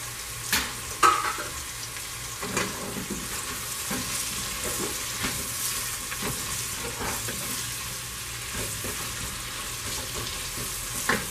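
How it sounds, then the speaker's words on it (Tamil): Onions and green chillies sautéing in a pan for mutton dum biryani: a continuous close sizzle with occasional soft stirring scrapes, steady and alone throughout. "இப்போ இதில் பச்சை மிளகாய் சேர்த்துக்கலாம்"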